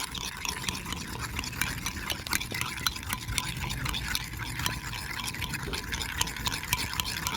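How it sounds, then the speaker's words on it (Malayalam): A spoon stirs an egg and milk mixture in a jar, made as a homemade plant fertilizer. A steady, close scraping and clinking with a faint wet swish runs continuously, with no voices heard. "ഒരു സ്പൂണ് പാലൂടെ ഒഴിച്ചു ഇതൊന്ന് മിക്സ് ചെയ്യാം"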